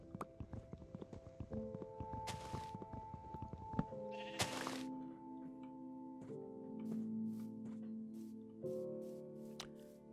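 Sheep in the Minecraft video game bleat several times over a busy backdrop of game sounds, with rhythmic tapping and clicking early on and repeated short sharp effects later, no voices.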